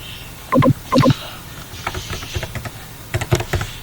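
A username being typed on a computer keyboard into a hospital management system login: two quick clusters of close, crisp keystrokes, then a lighter, more scattered run of taps, with no speech.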